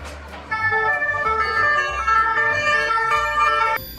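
A toy siren wails in a steady electronic warble, fairly loud and close, with faint talking around it.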